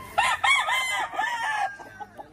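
A Jerry Jenkins Sweater line gamefowl rooster crows once on a gamefarm, a loud, close, multi-part call ending in a fading tail, no speech.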